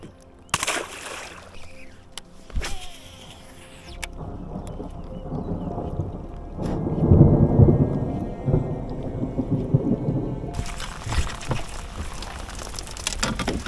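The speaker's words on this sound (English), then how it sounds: "I'm getting real sick of this on again, off again rain." Rain patters steadily on open water at a swamp lake, with a deep rumble of thunder rolling in midway, all heard close and fairly loud.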